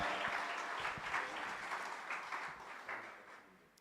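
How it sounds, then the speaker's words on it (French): A church congregation applauding a testimony, steady clapping from many hands at moderate distance, sustained throughout and tapering slightly at the end, no clear speech over it. "À nous applaudir, à nous encourager, nous frères."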